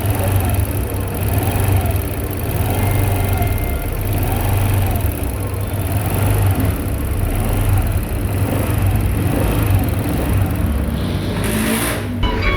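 A Honda Click 125 V3 scooter with a scratched cylinder block runs steadily up close with a loud, continuous rattling, knocking drone, slightly rising at times, with no talking.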